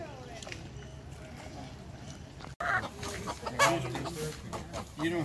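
Two chickens on a ranch cluck softly in the background while a person talks over them throughout.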